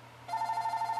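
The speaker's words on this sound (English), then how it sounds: "So you're going to hear my phone ring" Mobile phone ringing, a steady electronic tone that starts abruptly and pulses rapidly in an even rhythm, fairly faint and alone.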